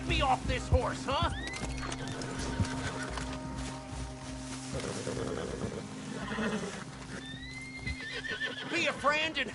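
A horse whinnies with rising squeals over a steady droning soundtrack in the video game Red Dead Redemption 2, with hoof clops and someone talking throughout.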